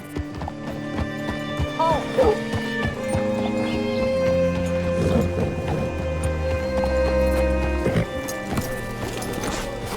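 Horse hooves clip-clop along with a whinny in the video game Red Dead Redemption 2, set against a steady music score as a man briefly exclaims.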